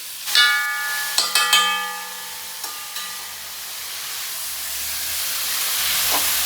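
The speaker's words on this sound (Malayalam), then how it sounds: "അങ്ങനെ വെളിച്ചെണ്ണ ചൂടായിട്ട് അതിലേക്ക് നമുക്ക് സവാള ഇടാം." Onions dropped into hot coconut oil for a pork curry give a steady hiss and sizzle that starts with a few sharp clatters and then holds as a bright wash to the end, with no talk over it.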